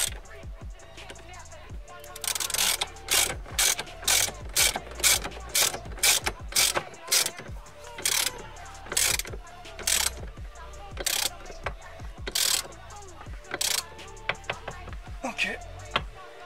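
Screw being refitted and tightened on the steering wheel of a Mercedes W124, giving a series of sharp, evenly spaced ratchet clicks up close, with some faint background noise between strokes.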